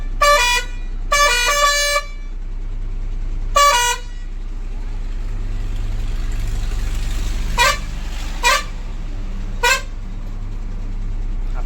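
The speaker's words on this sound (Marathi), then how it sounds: "आणि हॉर्न चेक करूया आता" Loud multi-tone truck air horn blasts at night: three long honks early, then after a pause three shorter toots, over a steady low engine hum.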